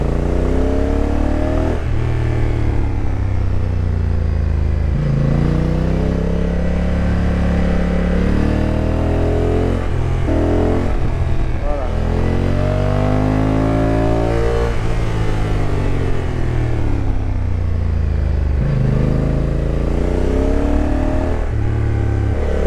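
A motorcycle on Metzeler RoadTec 02 tyres revs continuously on mountain roads, pitch rising and falling through repeated gear changes and throttle swells, loud and close throughout.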